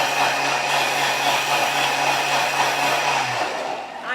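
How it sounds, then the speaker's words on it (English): A blender whizzes a green smoothie of leafy greens and banana in a loud, steady high-pitched whir that winds down near the end, with no talking. "so I'm going to whiz it up a bit more."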